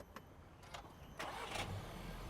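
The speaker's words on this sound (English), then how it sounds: "let me start the car first" A 2019 SEAT Tarraco 1.4L seven-seater fires up after a few faint clicks, the starter catching into a steady idle that holds to the end, fairly quiet with no talking.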